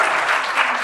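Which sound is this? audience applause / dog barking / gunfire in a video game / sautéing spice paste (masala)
audience applause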